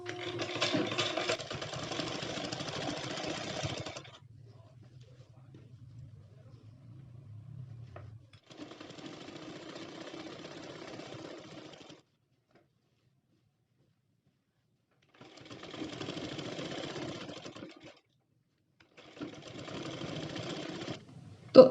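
A sewing machine stitches a strip onto a cotton nighty in four distinct bursts of rapid whirring, with quiet gaps and a brief low hum between them.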